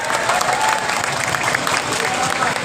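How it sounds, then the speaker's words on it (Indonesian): Loud, dense applause from a crowd honoring a contractor at an outdoor inauguration of a widened toll road exit in Bekasi. The clapping is steady throughout, with crowd voices and chatter mixed in. "Tepuk tangan untuk Pak Haji Sarjan."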